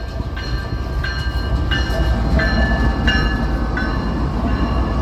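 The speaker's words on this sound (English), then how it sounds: "BNSF Autorack." A BNSF autorack freight train rolls past at close range, a loud steady rumble of wagons with a rhythmic clack of wheels over rail joints repeating about every second.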